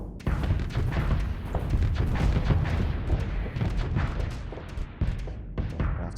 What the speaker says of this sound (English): Right, launch the missiles.